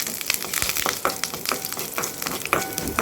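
Mustard seeds and curry leaves frying in hot oil for a Tamil pirandai chutney, a dense close crackling sizzle with sharp pops and spatters throughout, without any speech.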